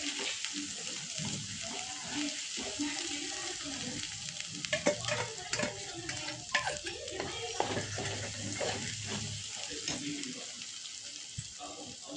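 Ingredients sautéing in a pan, a steady low sizzle with scattered scraping stirs that grow busier midway, faint background voices at times.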